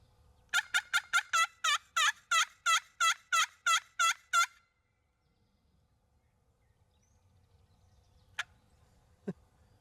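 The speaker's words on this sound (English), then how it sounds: "One gobbled, but dear God, they're so far away you can barely hear them" A wild turkey on a field on opening day of Indiana turkey season gobbles in a rapid run of about a dozen loud, rhythmic calls, then falls silent apart from two faint distant sounds.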